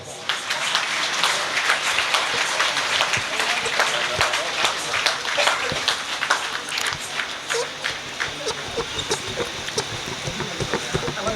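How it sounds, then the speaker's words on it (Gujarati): Audience applause at a religious ceremony honouring guests on stage, dense continuous clapping throughout with some speech mixed in. "તમારા બધાની 50 ગ્રામ તાળીઓ માટે આભાર."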